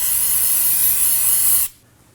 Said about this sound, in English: we're going to use some brake parts cleaner and clean up the area. Go ahead and spray it